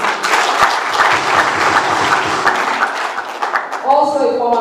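An audience at a political meeting with an ADC presidential candidate claps loudly and steadily in a dense, continuous burst. A voice rises over the clapping at the end.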